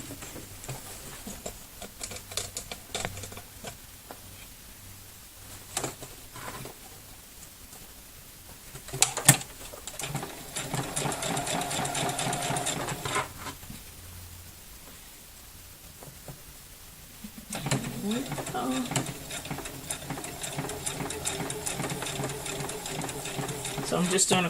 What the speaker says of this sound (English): I'm going to sew all the way from the top down to the bottom.